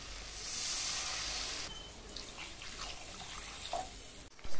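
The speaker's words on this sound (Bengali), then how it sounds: "এবার সেদ্ধ হওয়ার জন্য দিয়ে দিচ্ছি জল" Water is poured into a pot of sautéed spiced tangra fish curry so it can boil, a steady hissing pour up close that gives way to lighter splashes and a final clatter.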